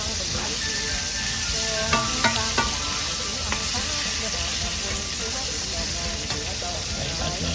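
Pork stir-frying in a pan gives off a continuous loud sizzle and hiss, with occasional scrapes and clinks of a utensil stirring the meat.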